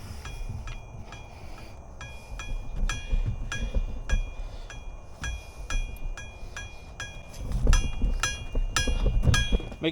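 Clamp being tightened on a Harbor Freight manual tire changer for truck tires, with repeated metallic clinks and ratcheting taps, close by over low rumbling handling noise.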